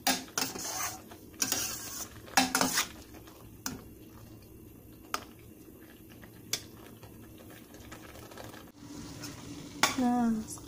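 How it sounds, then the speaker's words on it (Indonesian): Pineapple jam is stirred in a pan with a utensil, producing irregular scraping and knocking strokes against the metal over a faint background hum, with a brief voice near the end. "Terus aduk-aduk ya"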